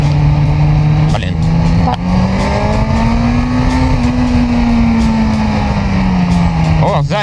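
A 2022 Kawasaki Z900 motorcycle engine holds a loud, steady drone during a test ride, its pitch rising slightly and easing back down, with brief rev blips near the start and end.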